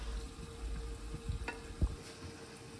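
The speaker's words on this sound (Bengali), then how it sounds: "লবণ স্বাদ মতো দিয়ে আবার কষাতে হবে।" Masala with salt sautéing in a pan for a hilsa fish dish: a faint, low sizzle with a few soft scraping stirs and light knocks, quiet and close, with no voices.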